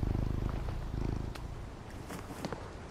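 A cat purrs while being petted in the video game Concrete Genie, a low, steady, rhythmic rumble that is loudest in the first half and then fades to a softer hum with faint rustling.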